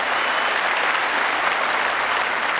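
Steady, dense applause from a crowd at the 1984 World Lawn Bowls Singles Final between Peter Belliss and Willie Wood, sustained and fairly loud throughout with no break.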